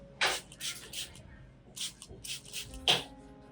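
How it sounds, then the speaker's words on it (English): Several short hissing bursts of a hand sprayer misting a tomato solution onto orchid leaves, close and fairly quiet, in uneven clusters with brief pauses between. "You need to spray evenly on both the top and bottom of the leaves."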